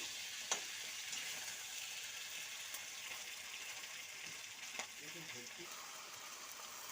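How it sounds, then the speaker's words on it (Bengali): Vegetables sautéing in a pan for a taro-root (kochur mukhi) dish in a village kitchen: a steady, quiet sizzle and hiss with a couple of faint clinks from stirring, with no speech. "সবজিগুলো সুন্দর করে আবার একটু কষিয়ে নিচ্ছি"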